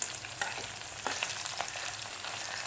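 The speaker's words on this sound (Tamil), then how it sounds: "நல்லா பொரிஞ்சு வருது" Dried fish and garlic frying in hot oil in a pan, a dense continuous sizzle with occasional crackles and stirring scrapes, close and steady without any voices.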